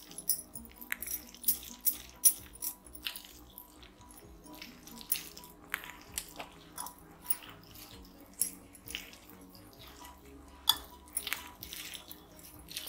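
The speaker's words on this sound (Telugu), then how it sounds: "ఇది బాగా నీళ్ళు వేసుకొని కలుపుకోవాలి." Spiced dough for masala karapusa, mixed by hand with water and oil in a bowl, gives soft wet squishing and slapping sounds in an irregular kneading rhythm, close and quiet.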